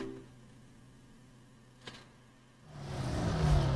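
A car in a video game starts moving near the end, a low engine hum and whir swelling after a quiet stretch with a faint click, fairly soft overall.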